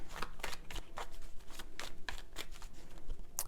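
A deck of tarot cards is shuffled by hand close up, giving quick repeated riffling bursts in an even rhythm with no talking.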